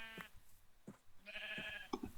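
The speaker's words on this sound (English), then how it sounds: "Is that a pink sheep?" A pink sheep in the Minecraft video game bleats in a few short separate calls spread across the moment, clear against quiet background with no talking.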